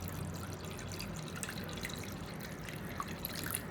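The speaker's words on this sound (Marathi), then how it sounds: "तर बघा आता मी इतकं पाणी वतते." Water pours steadily from a small pot into a cooking pan, a soft continuous trickle and splash with no talk.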